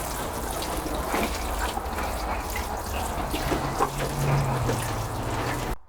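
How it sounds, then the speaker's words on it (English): Water poured over seeds sown in containers of soil in a greenhouse, a steady close-up splashing and trickling that runs for about six seconds before stopping abruptly. "So now it's watered."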